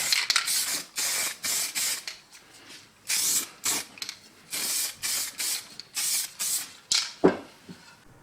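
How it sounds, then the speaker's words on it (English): Short bursts of an aerosol can spraying white primer onto an old tin, a dozen hissing sprays in an uneven rhythm with brief pauses between them, close and fairly loud. "we're just going to put a coat of standard primer just to help the top coat stick"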